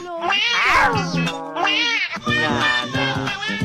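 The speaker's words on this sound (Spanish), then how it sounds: "queremos poner gatitos lindos" Cute kittens meow repeatedly, high and close, in a series of drawn-out, wavering cries with brief gaps between them.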